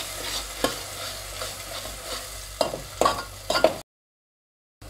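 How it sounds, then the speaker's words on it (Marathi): A spoon stirs a spice mixture sautéing in oil in a pan for rassa vada, with a soft sizzle underneath and a few sharp scrapes. The sound cuts out near the end. "आता हे मिश्रण आपण चांगले परतून घेऊया"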